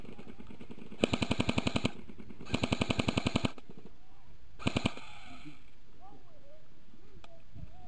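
Airsoft guns fire in rapid bursts during an outdoor airsoft game at Bolton All Arms Airsoft: three sharp automatic volleys close by, the last one short, with faint calls and talk between shots.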